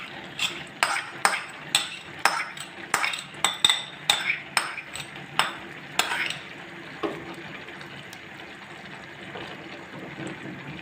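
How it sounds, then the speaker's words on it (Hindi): Grated carrot halwa being fried in desi ghee, with a spoon scraping and stirring the pan in a quick regular rhythm of about a dozen loud strokes over a steady sizzle, then slowing and fading. "अब हम गाजर के हलवे को भूनना स्टार्ट करेंगे"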